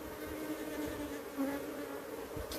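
Bees buzz in a dense, steady drone near a beehive, close and continuous without a break.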